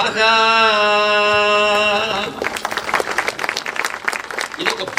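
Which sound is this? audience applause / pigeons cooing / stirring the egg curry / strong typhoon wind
audience applause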